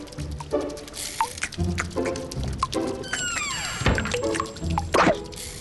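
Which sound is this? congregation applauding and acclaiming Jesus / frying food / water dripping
water dripping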